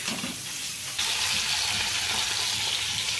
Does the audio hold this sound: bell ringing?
no